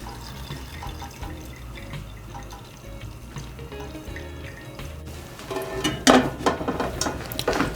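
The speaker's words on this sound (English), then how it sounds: "I'm gonna let that drain in this pot" Liquid from a cooked cheese dish drains into a pot, starting as soft, sparse drips and building near the end into louder splashing pours and clinks of cookware, close by and without speech.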